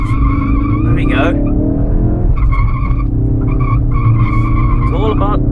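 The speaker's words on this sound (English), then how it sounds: "Time to see what we can do when we drift a Focus RS." A Ford Focus RS drifting in South Africa, its tires squealing in long, loud skids over a steady engine roar, with brief bursts of louder screeching as the car slides.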